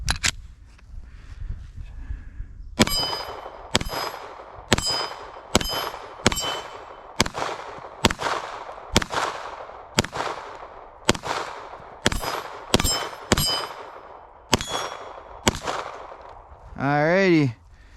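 A Canik Mete SFX pistol fires aluminum-cased rounds at a steel target in a steady string of about fifteen sharp shots. Each report is followed by a ringing metallic clang, and a brief electronic whine comes near the end.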